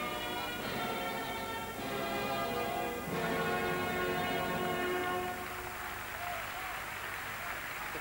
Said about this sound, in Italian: E fortunatamente questa volta ci sono solo applausi.